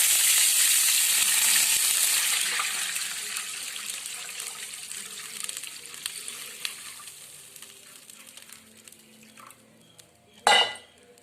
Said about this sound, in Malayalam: ഇനി അതിലേക്ക് നമുക്ക് ആവശ്യത്തിന് വെള്ളം ഒഴിച്ചു കൊടുക്കാം